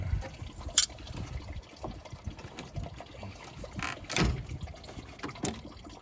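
Coolant trickles and dribbles from a Toyota Tacoma's radiator overflow tube after it is pulled off during a radiator replacement, a faint, steady liquid patter with a few brief louder splashes, no talking.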